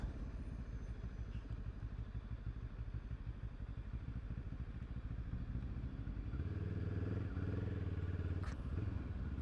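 Benelli 702 or Kawasaki Versys 650 motorcycle engine running steadily and close, its low drone swelling louder in the last few seconds as the revs rise, with no voices.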